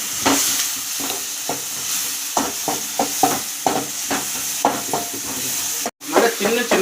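Mutton coated in masala sautéing in a hot pan, a steady loud sizzle broken by repeated scraping stirs of a spatula, close up, with a brief dropout near the end.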